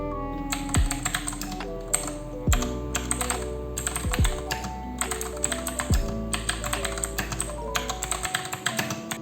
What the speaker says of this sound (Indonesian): gue pakai yang blue switch, jadi ya agak berisik sebenarnya